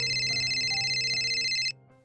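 A phone rings with a steady electronic tone, loud and continuous for nearly two seconds before cutting off abruptly, leaving faint room noise.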